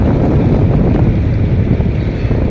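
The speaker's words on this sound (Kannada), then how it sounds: "ಗಂಗಾ ನದಿಯ ಮಧ್ಯಭಾಗದಲ್ಲಿಂದ ನಾವು ಬೋಟ್ನಲ್ಲಿ ಪ್ರಯಾಣವನ್ನು ಮಾಡ್ತಾ ಇದ್ದೇವೆ" A boat travels along the Ganges at Kashi, with a steady, loud rush of wind and water and engine drone close by, continuous and without talking.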